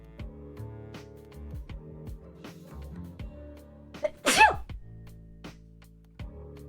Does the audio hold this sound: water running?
no